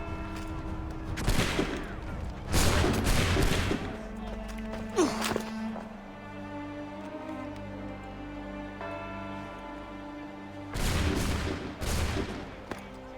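Musket volley in Assassin's Creed 3 Remastered, several loud cracking bursts of massed shots clustered near the start and again near the end, with game ambience and music between.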